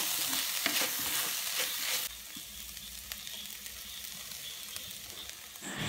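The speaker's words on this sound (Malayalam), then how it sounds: "ഇനി നമുക്ക് ഒന്നും കൂടി ഒന്ന് ഇളക്കാം." Chicken masala sizzles in a pan while being stirred, with loud frying and scraping for the first two seconds, then settling to a quieter, steady simmering hiss with occasional soft clicks.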